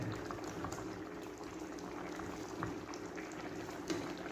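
Ginataang salmon with kalabasa simmers in a thick coconut milk sauce, a steady quiet bubbling and crackle throughout with occasional soft pops.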